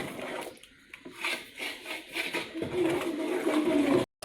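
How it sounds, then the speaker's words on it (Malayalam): Unniyappam batter being stirred and mixed with jaggery syrup in a bowl, giving irregular close rubbing and scraping strokes that swell and fade, then cut off briefly near the end. "ഇതുപോലെ നല്ല പോലെ ഒന്ന് ഇളക്കി യോജിപ്പിച്ച് കൊടുക്കുക."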